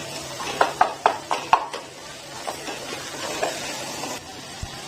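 Pumpkin and chickpea masala stir-fried again in a pan with red chilli and chilli flakes: a run of sharp spoon scrapes and clacks against the pot over a faint sizzle, easing into softer stirring.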